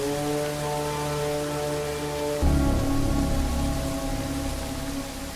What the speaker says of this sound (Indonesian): sedangkan hujan itu sendiri sudah turun